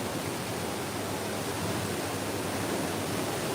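Warna river water pours through open dam gates in a dense, steady roar of rushing water, loud and unbroken, with no voices.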